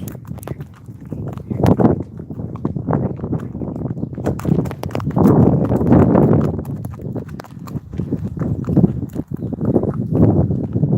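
A saddled horse carrying a rider walks back toward a village, its hooves striking in a steady, close, loud clip-clop rhythm throughout.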